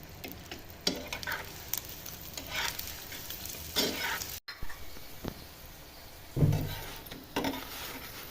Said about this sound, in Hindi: अब हम पराठे को पलट देंगे और फिर हम इस पर ऑयल लगा देंगे।